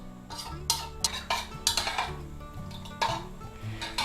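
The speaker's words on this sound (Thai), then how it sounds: "ใส่ส่วนผสมทั้งหมดลงไปเสร็จเรียบร้อยคนให้เข้ากันค่ะ" Sauce ingredients are stirred together in a bowl for pouring over steamed ginger fish, with a utensil clinking and scraping against the dish in irregular taps and strokes, close and fairly quiet, no speech.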